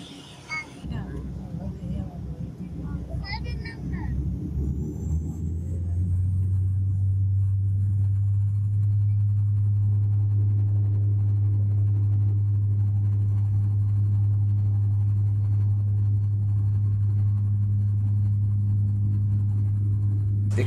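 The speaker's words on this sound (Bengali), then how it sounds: "দেখতে পাচ্ছেন বিমানটি ফ্লাই করার জন্য আস্তে আস্তে রানিং হচ্ছে।" Inside the cabin of a Biman Bangladesh airliner taxiing before takeoff on a Dhaka to Barisal flight, a low rumble builds into a loud, steady engine drone, with voices talking over the early part.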